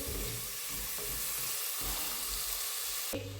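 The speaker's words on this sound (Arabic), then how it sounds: "نحطوا البصله نقليوها هي ثاني مليح" Onion frying in a pan with a steady, close sizzle and crackle of hot fat, a few soft stirring scrapes, and a louder burst of sizzling at the very end.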